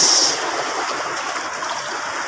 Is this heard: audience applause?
no